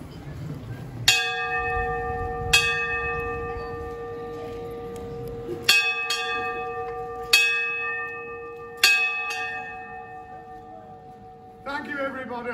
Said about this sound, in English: It's a great pleasure to ring this bell